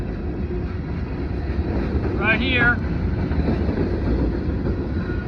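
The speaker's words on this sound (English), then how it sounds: "We're gonna watch this whole entire train here at Davie." Norfolk Southern mixed freight train passing at Davie in McDowell County, West Virginia, a steady broad rumble with wind buffeting the microphone and a brief squeal, while someone talks over it.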